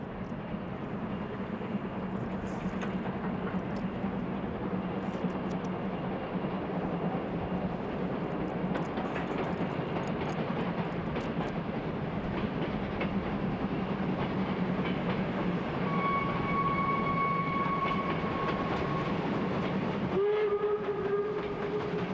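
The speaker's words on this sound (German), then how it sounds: "Im Sandwich dampften die beiden Lokomotiven sechsmal hin und her." Two steam locomotives in a sandwich formation on the Berlin Stadtbahn, one of them the Cottbus 03 204, steam past with a steady loud rolling rumble of wheels and exhaust, and bright whistle blasts sound near the end.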